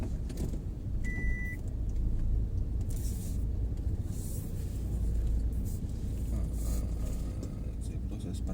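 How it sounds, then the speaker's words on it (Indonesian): A car is being parked, its engine rumbling steadily up close with a brief electronic beep early on and a few clicks. Someone talks throughout. "Saya proses parkir guys"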